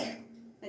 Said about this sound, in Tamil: இருமிகிட்டே இருக்கா